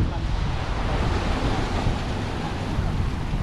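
Sea waves washing on the shore of a clear beach in Real, Quezon, a steady roaring surf mixed with wind buffeting the microphone, continuous and fairly loud.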